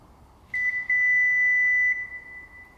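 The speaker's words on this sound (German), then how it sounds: "Man hört jetzt den Summer" A steady electronic buzzer beep from a Subaru Outback power tailgate holds a single high tone for over a second, briefly stuttering at the start, against faint background hiss.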